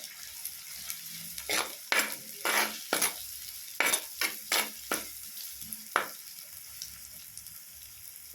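Onions and chillies sizzle in a pan while a spoon stirs them in a string of scraping strokes, close up, then the frying settles into a quieter hiss.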